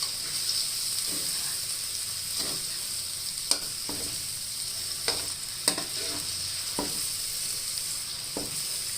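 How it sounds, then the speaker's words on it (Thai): Egg being stirred in a hot wok while frying for stir-fried pork noodles, with a steady bright sizzle and intermittent scraping clicks of the utensil, close and continuous with no talk. "ไข่เริ่มสุกแล้วค่ะ เราก็คนหน่อยค่ะ"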